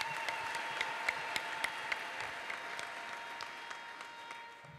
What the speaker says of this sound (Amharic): አጨብጭቡ ለጌታ ለኢየሱስ ክርስቶስ ክብር።